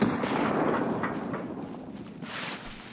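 A grenade blast in the Escape From Tarkov video game on the Reserve map near a guard shack, a sudden loud boom at the start that rolls off into a long, fading rumble.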